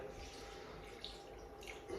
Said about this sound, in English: So I'm just going to add the water here.